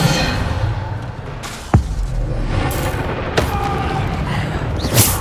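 Bombarda spell blasts in Hogwarts Legacy, loud booming impacts landing amid continuous combat noise, with several sharp hits spaced a second or two apart.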